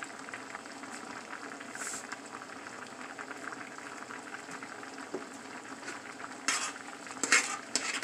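Rice with shrimp simmers in a pot with a low, steady bubbling hiss, joined by a few brief clinks and stirring sounds near the end.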